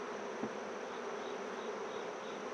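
Honeybees in an open hive, a dense continuous buzzing swarm close by, steady and moderately loud, with a faint brief knock early on.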